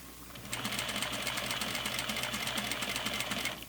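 A sewing machine stitches over basting stitches on flannel pajama pants, a steady fast needle rattle starting after half a second and running evenly to the end, close and moderately loud with no talking.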